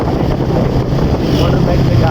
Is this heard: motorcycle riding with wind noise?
yes